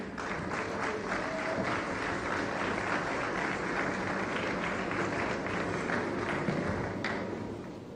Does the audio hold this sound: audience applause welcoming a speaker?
yes